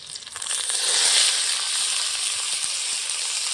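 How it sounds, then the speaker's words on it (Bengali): Steamed, drained banana flower goes into hot oil with chillies and spices, setting off a loud, hissing sizzle that surges in the first second and then stays strong and even, close by. "ভাপিয়ে রাখা মগজটা এখন দিয়ে দেবো"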